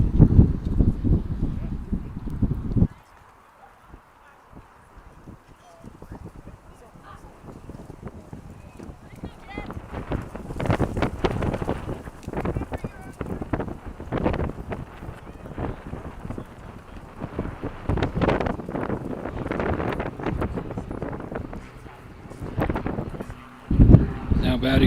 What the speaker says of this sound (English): here is quickly starting to look like Frank Herbert's dune with all of this wind